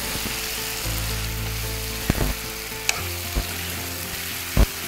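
Beans and chicken fry together in a pan, an even close sizzle under repeated scraping stirs and a few sharp knocks of the spoon against the pan, without speech.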